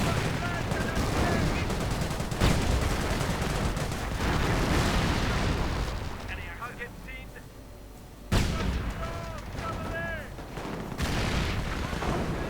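Gunfire from a 17-pounder anti-tank gun and MP40 submachine guns in a World War II strategy game, with dense overlapping shots and booms throughout under a commentator's voice.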